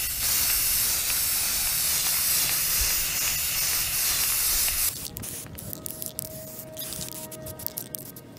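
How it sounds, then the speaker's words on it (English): A spray can applies primer to an R2-D2 radar eye, giving a loud, continuous hiss for about five seconds before cutting off, followed by quieter clicks and handling noises. "we're gonna go ahead and do the primer, just like we've done on the other parts, on the radar eye itself"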